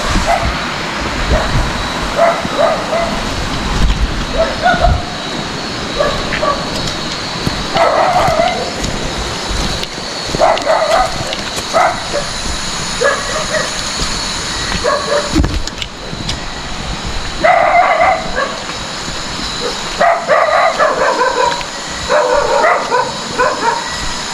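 A dog barks repeatedly in short bursts and clusters over a steady rumbling background, fairly close and loud.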